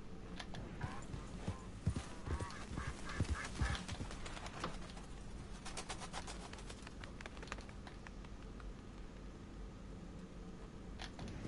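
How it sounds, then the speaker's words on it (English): Ducks quack in the Red Dead Redemption 2 game world over a steady outdoor background, with a close rhythmic clip-clop of horse hooves that is busiest early on. "Ducks."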